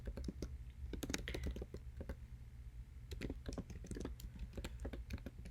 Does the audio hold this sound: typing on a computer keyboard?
yes